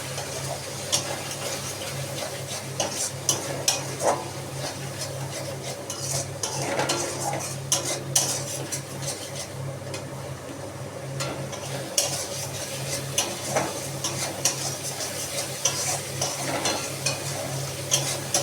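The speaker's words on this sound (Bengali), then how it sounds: "দিয়ে এবার আমি একটুখানি কষিয়ে ওই শাকটা দিয়ে দেবো।" Taro greens sautéing with turmeric and cumin in a pan, a soft continuous sizzle with frequent light scrapes and taps of a utensil stirring, fairly quiet and close throughout.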